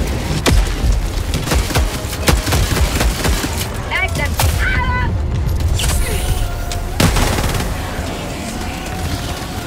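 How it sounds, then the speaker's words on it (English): An explosive barrage in Helldivers 2 booms and crackles loudly and almost continuously, with dense gunfire and blasts stacked together up close. "I got a couple of them in that barrage"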